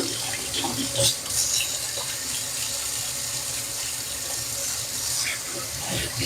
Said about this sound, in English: I'm going to wash my hands right now with soap and water.